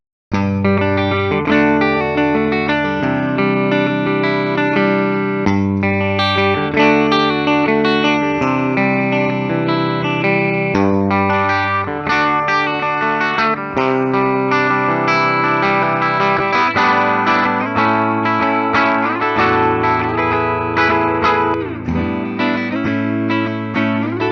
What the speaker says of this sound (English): Let's go ahead, plug it in, and hear how a first full year classic sounds.